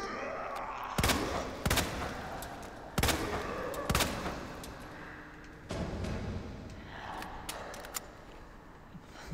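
Gunshots from a handgun in Resident Evil 2 Remake: about five sharp, loud single cracks spaced a second or so apart, each followed by a short ringing tail, over quiet game ambience.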